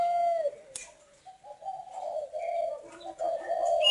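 Spotted doves coo at a breeding farm in the Ba Vi mountains near Hanoi: soft, low, repeated calls in short phrases, fairly close, with a sharp click and faint chirps from other birds.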